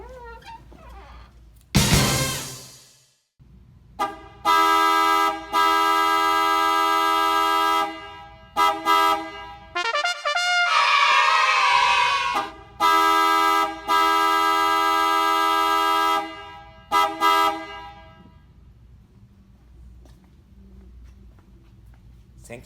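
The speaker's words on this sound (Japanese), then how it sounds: "やっぱり70年代の車の中でクライスラー系、モーパー系のクラクションがでかいよね。" A loud 1970s Chrysler Mopar car horn honks repeatedly in long and short blasts, with brief quiet gaps and a few other noises between them.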